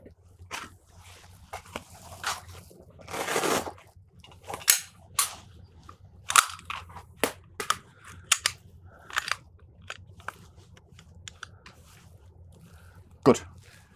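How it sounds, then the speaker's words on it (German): A pistol is unloaded and safety-checked during a shooting drill, giving a run of sharp metallic clicks and clacks of varied loudness, one longer rattling burst, close by with little else around. "Okay, Entladensicherheit herstellen."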